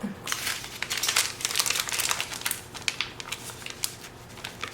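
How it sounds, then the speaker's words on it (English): Tape being peeled and the cardboard of a box of sugar-free chocolate fudge pudding mix crinkling, a close, steady run of crackly rustling for several seconds with no talking. "If I can get the tape off of it."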